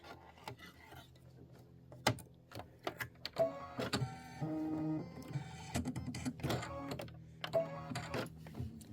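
A computerized embroidery machine stitches a Kimberbell 22-inch Thanksgiving pillow design in golden brown and copper thread, giving a steady mechanical hum with repeated rhythmic clacks and whirring bursts close by and no talk.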